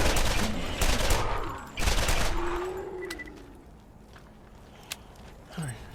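Repeater pistol gunfire in the video game Borderlands, a loud dense burst of rapid shots over the first two seconds, then sparser single shots and impacts as the action fades, with a voice speaking briefly.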